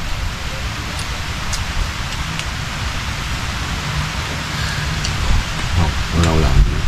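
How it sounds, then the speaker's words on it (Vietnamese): Heavy storm rain pours down in a steady broad hiss, loud and continuous, with a voice briefly audible near the end. "Mưa tới rồi đó."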